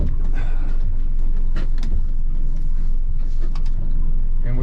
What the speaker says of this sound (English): So just turn the key, fire it up, put it in reverse, turn the wheel